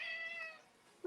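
A pet cat named Zeke gives a single drawn-out meow, close and clear, followed by a short chirp at the end.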